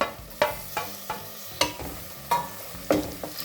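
Tomatoes fry in oil in a pan for green chicken pulao, with a steady soft sizzle under repeated sharp scrapes and knocks as a spoon stirs them. The stirring comes about every half second to second, close and alone.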